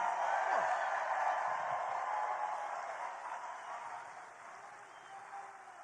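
Applause and crowd noise at a Trump political rally in Nevada, a broad sustained roar of clapping that is fairly faint and gradually tapers off over several seconds.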